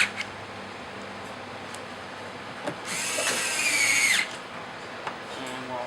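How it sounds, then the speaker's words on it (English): A power drill drives the factory screws back into a Porsche 997 during a fog light installation, one steady whirring burst of about a second and a half in a quiet garage, with brief clicks before and after. "Now we'll put our factory screws back into place."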